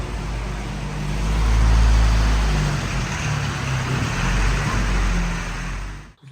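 A WW2 Jeep rumbles along on the move, its deep engine drone swelling and easing with wind and road roar, loud and close before cutting off at the end.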